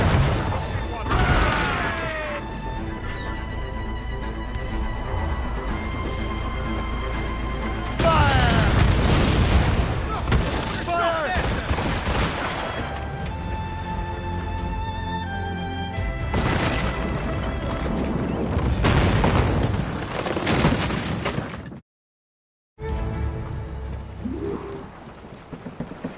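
Heavy booms and crashing impacts of ship cannons firing broadside in a naval battle in Assassin's Creed Rogue, loud and close, recurring in waves over sea and ship ambience, with a brief silent gap near the end.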